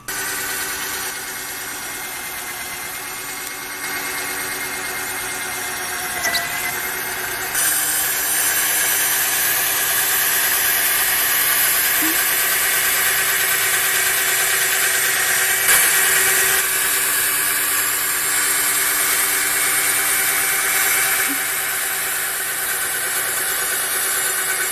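Power polisher running steadily on an 18-year-old car headlight with 2000-grade fine abrasive, a continuous whining motor drone that stays loud and even throughout, with a brief dip near the start and no talking.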